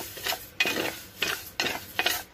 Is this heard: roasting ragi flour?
yes